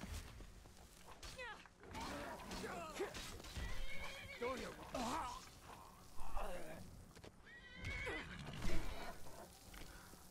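A horse whinnies and snorts amid Skyrim game sounds and hoofbeats, with someone talking loudly over it.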